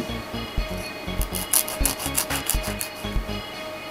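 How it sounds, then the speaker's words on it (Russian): A nail file rasps along fingernail edges while biogel is being removed, giving a run of quick, close, scratchy strokes over steady background music. "я подровняю края пилкой"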